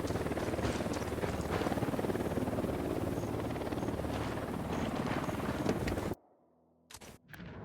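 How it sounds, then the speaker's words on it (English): A helicopter in the video game Ghost Recon Wildlands roars with a loud, steady rotor and engine drone for about six seconds, then cuts off abruptly, leaving a few faint clicks. "Love when I get to loot a chopper."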